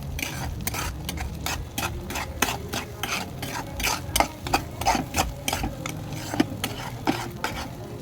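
A spoon stirs and mixes homemade egg manchurian with a little gravy in a pan, giving steady repeated scraping and clinking strokes at close range with a soft sizzle underneath and no talking.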